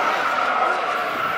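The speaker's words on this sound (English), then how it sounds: "you can still hear, they've been going all day with this drifting stuff" Cars drifting at the Charlotte auto fair make a sustained tire squeal and skid that holds steady across the moment. It is heard at a moderate distance amid crowd noise.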